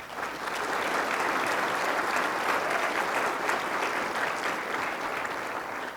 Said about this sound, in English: Please recognize them with a round of applause.